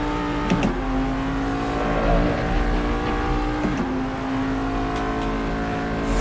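Corvette DP race car engine in Assetto Corsa, droning steadily at high revs with brief gear-change dips, its sound echoing off trackside walls, close and loud throughout.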